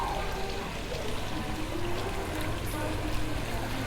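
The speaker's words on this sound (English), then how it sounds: "Water feature here with some koi carp." Restaurant water feature with a koi carp pond, pouring steadily and softly in the background, a continuous low wash of falling water with no speech.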